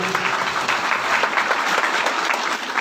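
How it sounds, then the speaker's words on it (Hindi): A seated audience at a musical Shrimad Bhagwat Katha recitation gives loud, sustained applause, a dense wash of clapping from many hands that holds steady throughout. "इस व्यासपीठ पर बिठाने में इनके लिए जोरदार तालियां"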